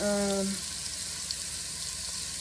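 Meat frying in a pot with onion powder and seasonings, a steady sizzle heard close up and alone after a brief tonal hum at the start.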